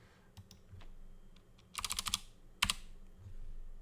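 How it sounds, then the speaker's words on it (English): Quick bursts of computer keyboard typing, a rapid cluster of clicks followed by a single sharp keystroke, close and fairly quiet against a low background hum. "Guess I was talking and typing at the same time."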